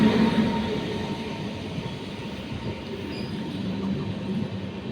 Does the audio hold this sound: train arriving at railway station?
yes